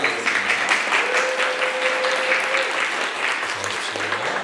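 Church congregation applauding a newcomer during a Sunday worship service, a continuous room-filling patter of clapping, with a faint voice briefly heard beneath it.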